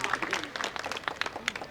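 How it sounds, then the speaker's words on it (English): An outdoor crowd at a Veterans Day ceremony applauds Marines with steady, moderately distant clapping, voices mixed faintly underneath. "a round of applause for Marines."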